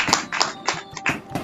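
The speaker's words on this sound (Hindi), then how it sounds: "तो एक बार जोरदार तालियों से हम स्वागत कर लेते हैं" Loud, close clapping in quick rhythmic bursts breaks out at a poetry gathering to welcome Dr. Ajay Kusum.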